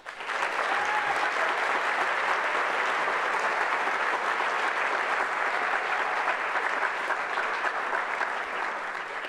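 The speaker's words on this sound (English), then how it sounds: "Let's give them a big round of applause for their marvelous efforts." An audience at a youth recognition awards ceremony in Thousand Oaks applauds young honorees, a dense, even clapping that holds steady for several seconds without speech over it.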